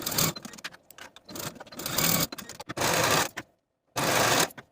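A sewing machine stitches the underarm seams of a jumpsuit sleeve in several close, rapid bursts, its motor whirring and needle clattering, with brief pauses and one clear gap of silence between runs.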